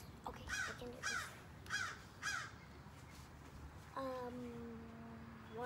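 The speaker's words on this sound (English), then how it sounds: "I think that was a crow." A crow caws four times in a loose, evenly spaced series, fairly near, followed by a different drawn-out call; quiet household background with little else.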